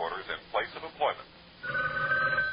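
A telephone rings in a repeated electronic trill, clear and close, starting just after a person finishes speaking.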